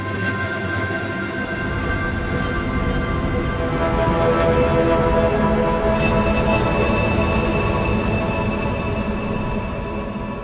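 Experimental granular synth texture from the Novum instrument by Dawesome, with randomly modulated grain parameters forming a dense, sustained, shimmering drone with layered tones and faint crackles, steady for about ten seconds without speech.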